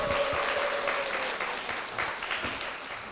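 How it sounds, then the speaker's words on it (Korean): A church audience applauds to welcome a guest onto a Korean church program, with dense, steady clapping that fades slightly toward the end. "박수로 모시겠습니다."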